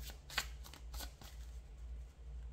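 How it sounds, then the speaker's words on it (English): A deck of tarot cards is shuffled by hand in a few quick riffling bursts, close and soft over a low steady hum. "and then I shuffle and it's back at the bottom of the deck"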